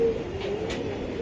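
A race-tested club racing pigeon gives a soft, close coo, a single low rolling call with a faint murmur in the background.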